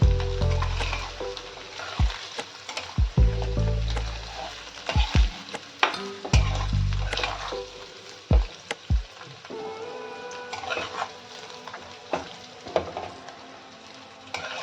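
Paneer cubes fry in hot oil in a pan for matar paneer, a crackling sizzle running under repeated sharp clanks and scrapes as a spatula lifts the pieces out, the knocks coming in irregular bursts.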